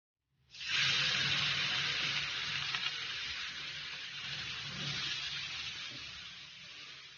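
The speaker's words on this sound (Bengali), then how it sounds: "আমি তেলটার সাথে গাজরটা ভালোভাবে মিশিয়ে নিচ্ছি একটু ভেজে নিতে হবে" Chopped carrots sizzle in hot oil with bay leaf pieces, a loud continuous hiss starting abruptly and holding steady throughout, with faint stirring underneath.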